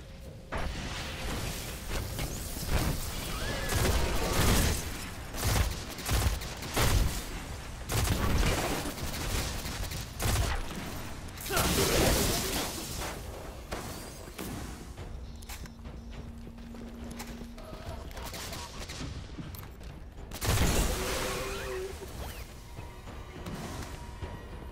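Rapid bursts of Destiny pulse rifle fire crack out in tight volleys, loud and close, amid explosive impacts and whooshing game effects.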